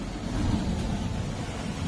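Sea waves pound below a bastion of Vijaydurg fort on the coast, a dense, steady roar of surf with wind buffeting the microphone and no talking.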